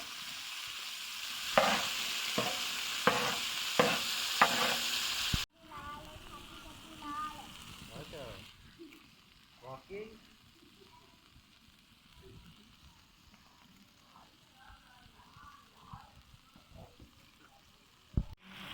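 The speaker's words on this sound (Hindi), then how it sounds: "हल्की आंच के ऊपर मैं इसे फ्राई कर रहा हूँ तमाम मसाले ऐड करने के बाद" Mutton masala frying over a low flame on a large tawa: loud sizzling with rhythmic stirring scrapes at first, then a sudden drop to quieter, softer sizzle and occasional clinks, with a voice talking faintly in between.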